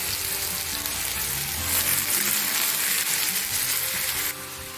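Garlic and onion frying over low heat in a pan, a steady close sizzle that swells briefly in the middle and drops off sharply near the end, with no talking.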